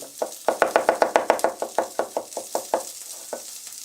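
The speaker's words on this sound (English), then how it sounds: "I've got a couple cloves of garlic. We're just going to slice them nice and thin." A knife slices a couple of garlic cloves thin on a cutting board, giving a quick run of about fifteen crisp, close taps in a steady rhythm that slows and spaces out toward the end, with no talking.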